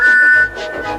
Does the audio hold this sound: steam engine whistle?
yes